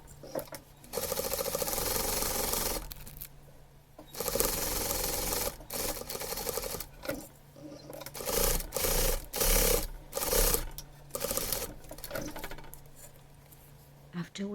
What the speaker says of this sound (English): Now we're just gonna sew with top stitch.